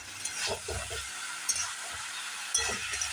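Jackfruit curry, Bengali style, being stir-fried in a pan: a steady oily sizzle with repeated scraping, stirring strokes and two sharper spatula knocks, close and alone with no voices.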